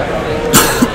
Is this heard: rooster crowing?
no